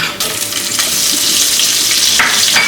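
Butter hitting a hot pot for red rice pilaf, setting off a loud, dense, continuous sizzle heard up close with no talking over it.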